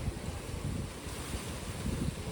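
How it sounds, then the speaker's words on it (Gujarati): Strong wind on a cloudy day in Vadodara rushes past a balcony gallery, a steady, loud, low buffeting roar with gusty rumbles and no voices. "જો મસ્ત પવન ફૂંકાય છે"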